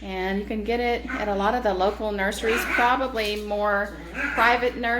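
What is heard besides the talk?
No distinct noise like a dog, phone or traffic.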